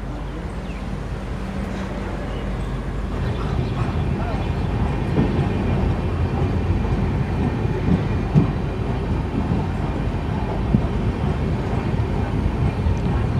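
Hirakhand Express pulling out of Rayagada railway station, a steady, fairly loud rumble of rolling train wagons with faint rhythmic clatter building after the first few seconds and continuing throughout.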